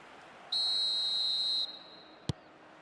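A referee's half-time whistle in the eFootball video game blows one sustained shrill blast lasting about a second, followed by a brief sharp click, over a low steady background hum.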